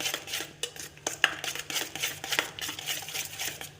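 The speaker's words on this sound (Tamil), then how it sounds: "ஒரு ஸ்பூன் வெண்ணிலா எசன்ஸ் ஊற்றி நல்லா எல்லாம் கலக்கிற மாதிரி நல்லா கலந்து விட்டுக்கிடணும்" Spoon stirring cake batter with vanilla essence in a bowl, irregular clinks and scrapes against the bowl at a steady stirring rhythm, close and moderately quiet.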